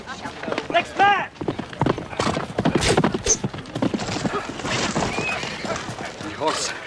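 A horse ridden by a warrior clops its hooves in a busy mix with whinnies, dense effects and voices, the hoofbeats sharp and close amid the clamor.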